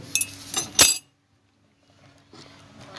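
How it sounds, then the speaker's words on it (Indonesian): A metal spoon is put into a drinking glass, giving a few quick clinks and one sharp ringing knock near the start, followed by near silence and a faint rustle. "aku akan memasukkan sendok ke gelas"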